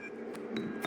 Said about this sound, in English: and we'll crack a bottle.